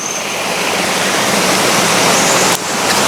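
Water rushing in a forest stream at the foot of a waterfall, a loud, dense, steady roar of flow heard up close, with a brief dip near the end.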